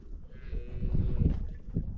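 A concerned mother cow on a farm bellows loudly for her calf, a low drawn-out moo heard up close with no talk over it.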